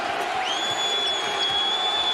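A basketball arena crowd at a 2004 Cavaliers versus Magic NBA game roars steadily and loudly, with a sustained high whistle-like tone rising above the cheering.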